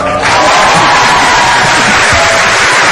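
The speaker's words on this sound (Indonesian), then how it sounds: "harus tepuk tangan buat bidus" A studio audience at an Indonesian television talk show applauding and cheering, a dense, loud wash of clapping and whoops that starts abruptly and holds steady, close and unbroken.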